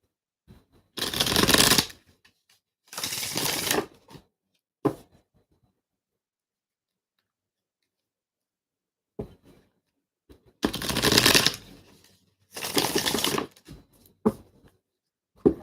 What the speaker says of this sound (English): Just shuffle these.